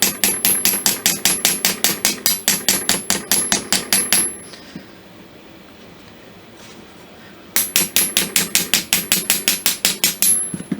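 Rapid, evenly spaced hammer blows cold-forge a metal pin on a Kibler Colonial flintlock ram rod, loud and close, stopping for about three seconds before the sharp ringing strikes resume.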